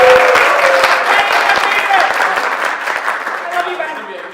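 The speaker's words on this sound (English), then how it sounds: "Give him a big round of applause, everybody." An audience at a live improv comedy show breaks into loud applause and cheering that fades slowly over a few seconds, the crowd close and dense.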